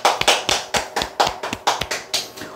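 Crisp hand claps close by, about ten of them in an even, rhythmic beat, each sharp and distinct with short gaps between.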